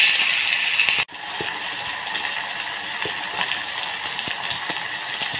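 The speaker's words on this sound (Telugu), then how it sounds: "నూనెలో మంచిగా కొవ్వుని మంచిగా ఫ్రై చేయాలి." Mutton fat frying in oil in a pan, a steady close sizzle with a sharp clack near the start and scattered small pops and crackles throughout.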